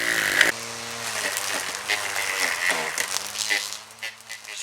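A motorised trimmer or small chainsaw cuts through garden growth, its steady buzzing drone rising and dipping in pitch as it works the material, loud and close, with no talking.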